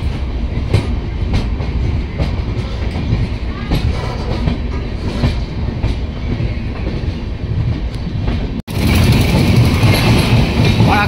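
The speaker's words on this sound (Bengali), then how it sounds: "মালদা থেকে ছাড়লো ট্রেন।" A moving train pulling out of Malda rumbles loudly and steadily, with rhythmic clickety-clack of wagons on the rails and a sharp change in the rolling noise near the end.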